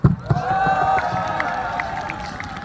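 Crowd of citizens at a rally cheering and clapping, a loud sustained roar of voices with claps running beneath, fading gradually over a few seconds.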